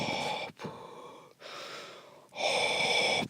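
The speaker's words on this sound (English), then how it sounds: "Vader keeps breathing." Darth Vader's mechanical respirator breathing in Star Wars: The Force Unleashed, three slow hissing breaths in and out, close and clear with brief pauses between them.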